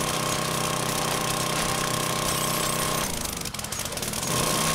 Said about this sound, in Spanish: el taladro este nos puede venir bien